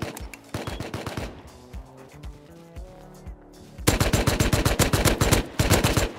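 AK rifle gunfire in Rust, sharp rapid shots in close bursts, a short volley first, then a quieter gap with game music, followed by a loud sustained automatic string and a final burst.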